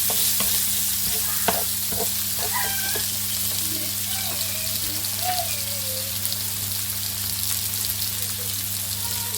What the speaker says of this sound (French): Donc maintenant, on va les faire translucides.